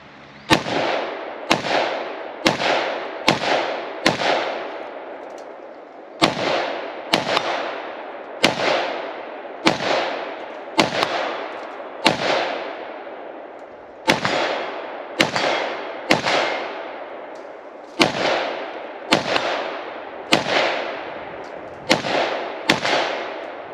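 Arsenal SAM5 rifle fired outdoors in a long series of single loud, sharp shots at an uneven pace, each crack followed by a short echoing tail, with occasional brief gaps between groups of shots.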